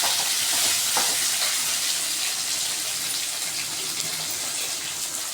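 Tomato, crushed ginger and slit green chillies sizzling and frying steadily in a pan with oil for a Tamil fish curry, a continuous close hiss with light stirring scrapes and no talking.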